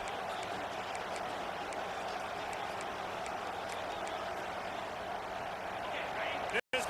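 Stadium crowd roar from a college football video game, a steady, dense wash of noise throughout with commentary heard over it.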